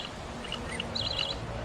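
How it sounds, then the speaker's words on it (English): Battery-powered toy parakeets chirping: a few faint, thin, high electronic tweets in a quick cluster over a steady background hiss. "And they start chirping away."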